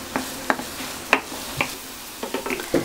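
Onion and minced garlic cooking in a little oil for meat-filled brick pastries, giving a soft, steady sizzle broken by a few sharp stirring knocks and utensil scrapes, close by and moderately quiet, with no talking.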